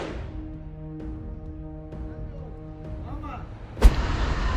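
A single sharp breaching-bomb blast bursts out near the end of an airsoft game, loud and close, cutting through a steady low background rumble with scattered noise.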